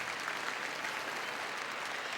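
An audience watching a horse training session claps, a steady, dense patter of many hands at moderate distance, unbroken for the whole stretch.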